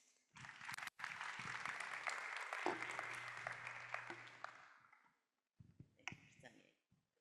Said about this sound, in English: Another round of applause to Dr. Nardos.